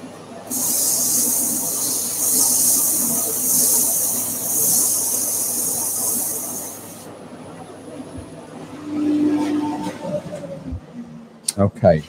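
Woodworking dust extractor running with a steady loud hiss for several seconds, then cutting out, followed by quieter workshop sounds and a few knocks.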